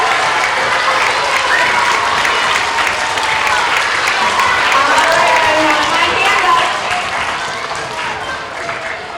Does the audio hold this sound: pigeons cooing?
no